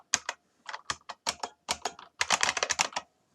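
Fingers typing on a computer keyboard, crisp close key clicks in short irregular bursts with brief pauses, quickening into a rapid run near the end, no talking.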